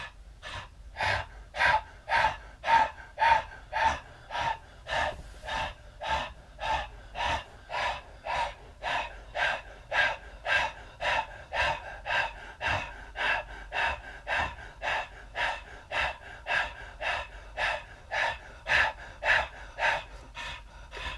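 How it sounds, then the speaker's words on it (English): Deep abdominal breathing exercise, with forceful exhalations pushed out from the stomach in a steady, even rhythm of roughly one breath per second, repeated for twenty seconds at close range with no speech. "So you're using your stomach, only your abs, and you're only pushing out. Your body will automatically push in, or will breathe in."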